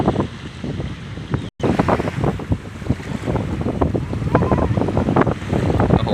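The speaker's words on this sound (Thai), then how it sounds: "คลื่นเริ่มข้ามมาแล้วลมเริ่มแรงขึ้นเรื่อยๆ" Strong wind buffets the microphone while waves crash and surge at a rocky seashore on a rainy day, a continuous loud roar with rushing water and gusts throughout.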